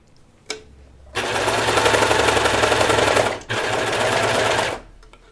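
A sewing machine stitches seams on an Annie cardigan in two loud, close sustained runs of rapid mechanical whirring, separated by a brief pause, after a single click at the start.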